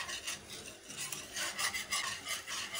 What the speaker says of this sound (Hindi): इसको डाल के मुस्तकिल मैं विस्क चलाती जाऊंगी ताकि कोई लम्स ना बने